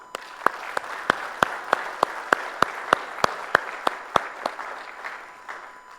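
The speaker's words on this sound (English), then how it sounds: "please give a huge round of applause to Pawan Devalsi." A conference audience applauds a keynote speaker, with the hall's clapping spread steadily throughout and one sharp, close clap standing out at a regular beat, about three per second.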